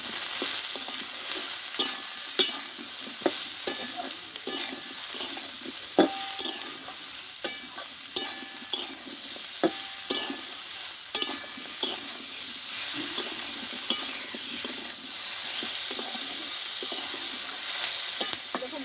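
Cauliflower frying with ground cumin, turmeric and salt in a pan, sizzling steadily while a utensil stirs it in repeated scraping strokes, close and moderately loud, with no talking.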